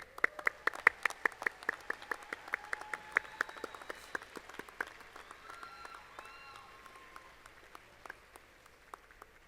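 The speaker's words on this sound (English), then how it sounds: "please stand up and show your appreciation to your family and friends with a round of applause" A graduating class and audience at a university fall commencement ceremony break into applause, a dense, steady patter of many hands clapping in a large hall, moderately loud and continuing throughout with no speech.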